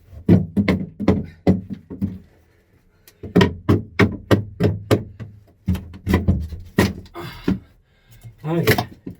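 Sharp metal blows hammering a part out of an engine cylinder head, sounding as close, loud strikes in quick irregular bursts with brief gaps between the runs.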